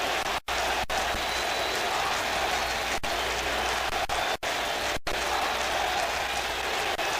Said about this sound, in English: Members of the crowd still chanting "We Want Willie."